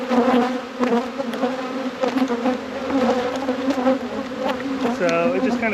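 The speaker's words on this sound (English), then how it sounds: "that's probably why they're all buzzing me a lot" Honeybees swarm around an opened hive during an inspection after winter, buzzing densely and loudly close by. The drone wavers and pulses as individual bees fly near, with no speech.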